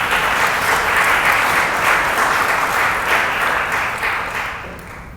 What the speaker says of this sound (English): Let's give a round of applause for that.